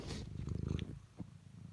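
A cat purring softly up close, a low rumbling drone that fades after about a second, with faint background noise.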